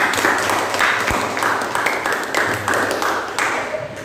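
A classroom claps for a student, a steady patter of many hands clapping together at moderate loudness for a few seconds.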